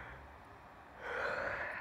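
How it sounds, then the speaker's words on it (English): A person yawns in a long, breathy vocal exhale that swells louder and more voiced in the second half, close and alone with no speech. "about to yawn, hold on."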